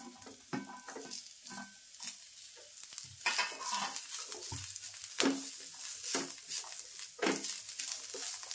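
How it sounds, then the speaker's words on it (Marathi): Ginger and garlic frying in a little oil in a pan with browned onion for Malvani-style chicken, giving a steady sizzle broken by repeated scraping stirs of a spoon, close and fairly loud, with no talking. "आता मी तेल टाकणार आहे, ते पण थोडंसं. आता मी आलं आणि लसूण पण टाकते."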